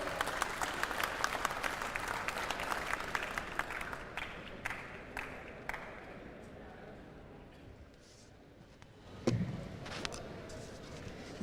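An audience at a robot contest ceremony applauds a speaker. The dense clapping fades over several seconds into scattered claps, and then a voice starts speaking over a faint room background.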